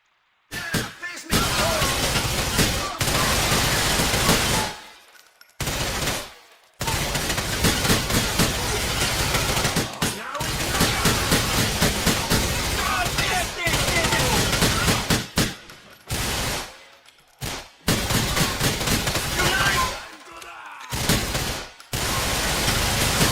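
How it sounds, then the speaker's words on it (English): Bullets strike concrete ground in GTA 4 in loud, dense bursts of gunfire and debris cracking, broken by short silent gaps, with some talk mixed in. "when the bullets strike the ground, you can actually hear the concrete coming off the ground"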